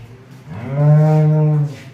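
A single drawn-out, deep moo from a nearby Jersey heifer in her first lactation, rising and holding steady before cutting off.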